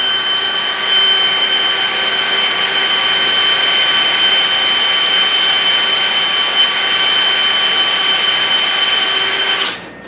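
A DeWalt DCD998 hammer drill running at speed 1 in drill mode bores through 5.5mm steel tube, giving a steady, loud, continuous whine with a sustained high tone that holds evenly for about ten seconds before cutting off abruptly.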